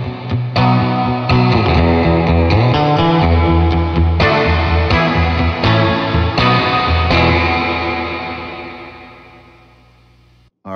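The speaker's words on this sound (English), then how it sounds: "plate reverb is actually created by vibrating a metal plate" An electric guitar plays chords and picked notes through a surf-style plate reverb, with bright sustained tones washing out and decaying into a long fading tail near the end, with no talk.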